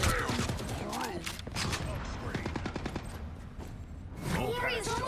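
A turret fires rapid automatic bursts in a video game, a dense, loud stream of shots running almost continuously under overlapping voices and game speech.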